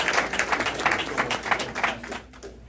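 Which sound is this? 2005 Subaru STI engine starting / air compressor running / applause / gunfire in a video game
applause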